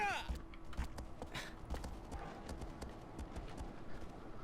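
A horse gallops in the video game Shadow of the Colossus, with a continuous rhythmic clip-clop of hooves at moderate volume under faint background sound.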